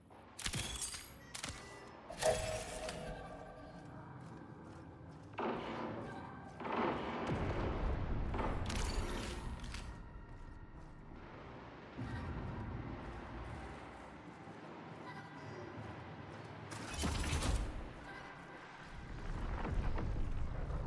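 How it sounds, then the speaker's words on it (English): Distant gunfire from a video game, sharp broadband bursts and cracks scattered through a continuous rumbling game background, with a few louder impacts standing out over the steady noise. "I think I hear gunfire"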